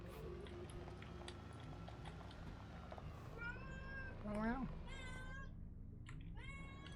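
A cat meows repeatedly in several drawn-out, wavering calls, near and fairly loud over a steady mechanical background, while a person briefly speaks.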